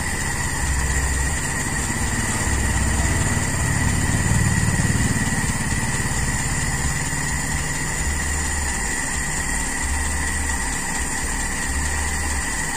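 A Toyota Kijang Super carburetor engine idles at low RPM, a steady, close mechanical drone with a low throbbing pulse that swells briefly midway and then settles back, running alone throughout.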